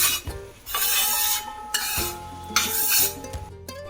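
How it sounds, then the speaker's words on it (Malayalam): Jaggery syrup for Kerala-style ash gourd payasam is stirred in a pan, with a utensil scraping and knocking against the metal in repeated close, fairly loud strokes and bursts of scraping. "ശർക്കര പാനി നല്ലപോലെ വറ്റുന്നത് വരെ തുടർച്ചയായിട്ട് ഇളക്കി കൊടുക്കണം"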